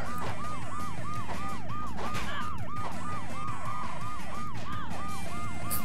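An ambulance siren in the Road Rash 64 video game wails in a fast, repeating up-and-down pattern, loud and continuous over engine and road noise.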